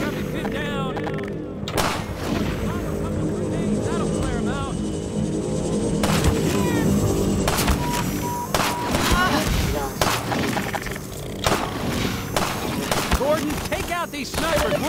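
Sniper gunfire in the video game Half-Life 2 cracks out as repeated sharp shots over a dense, noisy battle backdrop, spaced irregularly across the stretch with booming echoes and a shouting voice mixed in.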